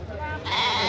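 A young female goat bleats at a busy livestock market, a short nasal call rising near the microphone over background murmur.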